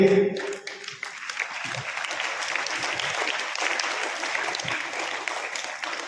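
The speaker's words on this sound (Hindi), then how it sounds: "मैं एक बार जोरदार तालियां इन सभी के लिए।" Audience applause for 10th and 12th board students at a school honouring ceremony: a steady wash of many hands clapping, fairly close and sustained, with a brief voice or tone at the very start before the clapping fills in.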